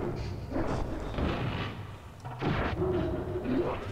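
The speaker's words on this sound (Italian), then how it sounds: "gli sparo un colpo e lui mi lancia un sasso" Gunshot answered by a golem hurling rocks in the game O.D.T. (Or Die Trying), heard as a run of heavy thuds and booming impacts over rumbling background, with bursts of noisy crashes throughout.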